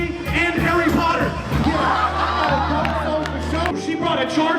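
A comedy-show audience cheers, whoops and applauds loudly and continuously, a dense crowd roar filling the room with shouts rising over the clapping.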